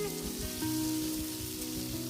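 Pumpkin leaf stems fry with potatoes in a pan, giving a steady, close sizzle like light rain over a low background hum.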